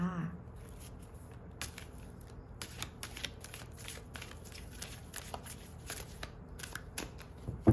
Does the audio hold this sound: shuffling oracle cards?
yes